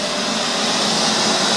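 A Neato Signature XV Pro robot vacuum cleaner, a year into use, runs with a steady, moderate whirring hum of motor and suction, unbroken throughout.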